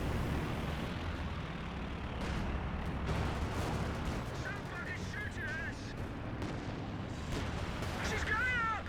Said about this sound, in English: And now more and more anti-infantry strafes are coming on in.